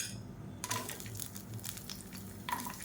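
Small shallots dropped into hot oil in a pan with toor dal for chutney, a steady soft sizzle with a couple of brief clinks of a utensil, quiet and close.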